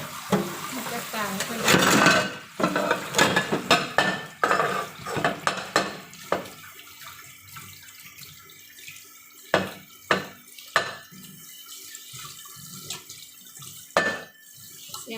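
Dishes and pots being washed under a running tap, with water splashing at first, then scattered clinks and clatters of crockery and utensils, while someone talks intermittently.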